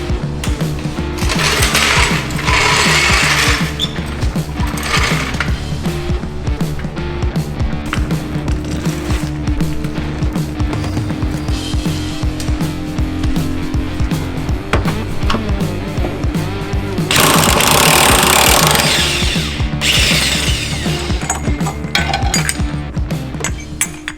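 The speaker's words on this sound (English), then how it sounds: "Now we just gotta release the 4 bolts that holds the whole subframe in." Loud, continuous rattling of a power tool releasing subframe bolts on a BMW 135i track build, a steady mechanical buzz with bursts of harsher impact noise near the start and again later, no voices.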